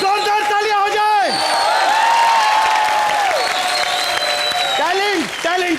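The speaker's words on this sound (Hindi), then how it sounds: "जोरदार तालियां हो जाए।" Loud studio audience applause and cheering on a Hindi comedy show set, sustained throughout with host and musical voices speaking over it.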